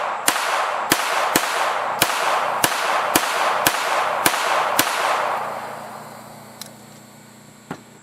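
Nine sharp, evenly paced unsuppressed .22LR gunshots firing Federal Auto Match ammunition ring out loud and close, followed after a pause by two fainter, more distant cracks.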